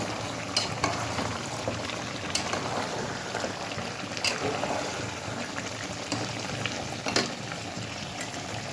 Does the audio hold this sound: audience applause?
no